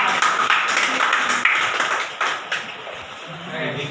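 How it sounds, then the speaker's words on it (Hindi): A group claps briefly at an award ceremony, a short burst of applause with scattered taps, while people talk over it. "चलो इनके लिए ताली।"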